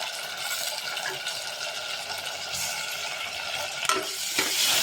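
Onions and tomatoes sautéing in a pan for a tomato chettinad dish give a steady close sizzle with a few spoon scrapes and clinks near the end, with no talking.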